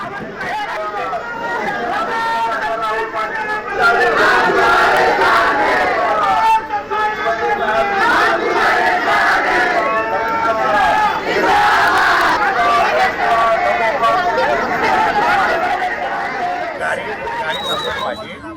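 A large crowd of Shinde Sena and BJP party workers clashing near a police station in Mira Bhayandar shouts and yells angrily, many voices overlapping in a loud, agitated uproar that barely lets up.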